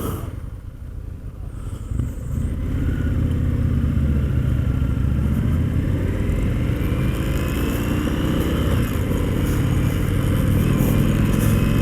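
An Indian FTR 1200 motorcycle ridden on a 2019 demo day, its engine droning loud and steady close by, with the pitch rising and falling through acceleration, and wind rush underneath.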